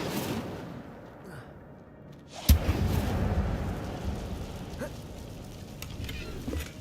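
Hogwarts Legacy's Incendio fire spell is cast in the Forbidden Forest: one sharp whooshing burst lands mid-clip and then becomes a steady rumbling roar over an ambient forest background.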